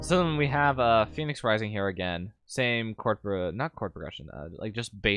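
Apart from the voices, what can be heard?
No everyday noise stands out behind the speech.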